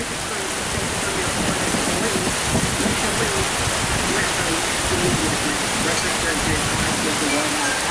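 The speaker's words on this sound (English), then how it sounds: "got water at my feet running out the back here. I got a drain hole that run the water out through the back" Water draining out through a boat's rear drain hole, heard as a loud, steady, hissing rush of running water that continues without a break.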